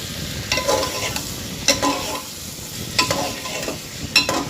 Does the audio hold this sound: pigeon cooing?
no